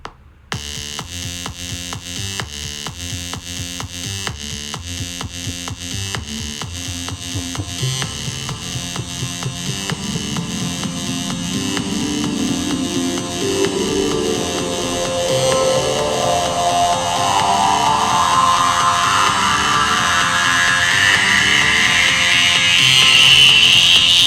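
A reverb effect being recorded in an audio production session: a dense, sustained tonal wash with buzzing harmonics and a rising, sweeping pitch that grows steadily louder over about 24 seconds, with no voices.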